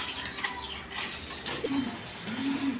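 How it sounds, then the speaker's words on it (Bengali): A pair of Gola pigeons, a cock and a hen, give low cooing calls in two short bursts over steady background noise, with faint bird chirps higher up. "এইখানে এক পেয়ার গররা কবুতর আছে"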